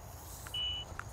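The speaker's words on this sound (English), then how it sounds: "it's going to send out a beep. That's going to tell me that this is touching the water" A water level meter probe lowered down a well gives a single short, faint electronic beep as it touches the water table, over a steady outdoor background rumble.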